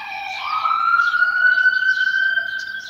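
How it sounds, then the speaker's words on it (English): A passing ambulance siren wails in a long, rising and sustained tone, steady and fairly loud, with no voices over it. "I'm gonna wait until this ambulance go by."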